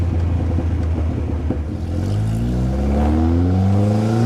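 A 1955 Austin-Healey 100S tribute's engine pulls at part throttle, a deep close rumble that steadily rises in pitch as the car accelerates through traffic.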